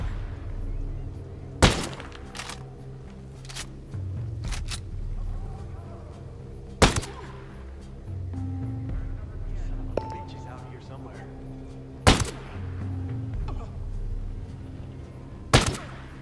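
Gunfire in the video game Ghost Recon Breakpoint, four sharp single shots spaced several seconds apart over low background game sound.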